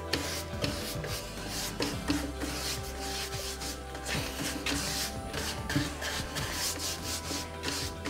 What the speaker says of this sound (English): you just want to wipe off any excess wax